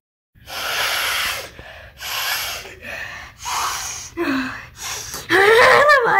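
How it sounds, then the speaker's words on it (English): Someone sniffs a snuggle blanket in a cartoon scene, a string of loud, close snorting sniffs and breathy inhales, and the last one shifts into a squeaky, whimpering voice. "I love sniffing my snuggle."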